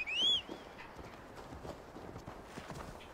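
Horse hooves clip-clop at a steady, moderate pace across open ground in Assassin's Creed Valhalla, opening with a brief high whistling chirp before the even hoofbeats carry on with no talk.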